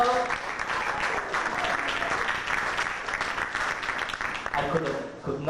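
A crowd clapping steadily, the applause dense and fairly loud, with a few voices mixed in.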